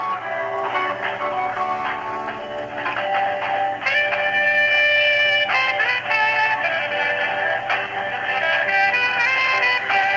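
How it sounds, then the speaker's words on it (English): Tinny, compressed music plays continuously as if through a phone speaker, a steady melodic loop with no voices. "More obnoxiously loud music with no help."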